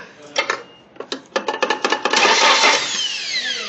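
A string of sharp metallic hammer taps on the starter, then the failing starter motor of a Nissan 240SX barn-find car whirs loudly for over a second before spinning down with a falling whine.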